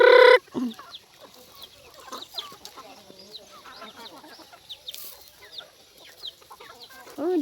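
Chickens cluck and chatter nearby on a farm, with scattered soft clucks and calls throughout and a brief louder squawk at the start.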